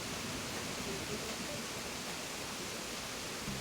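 A waterfall in the Animal Crossing: New Horizons video game sounds as a steady, loud, broadband rushing hiss that continues unbroken throughout, with no talking.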